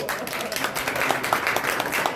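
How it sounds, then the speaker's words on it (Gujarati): A crowd claps steadily at a Gayatri yagna ceremony held at a royal family's bungalow in Wankaner, with dense, continuous applause lasting a couple of seconds and no distinct voices. "ચાલો તાળી"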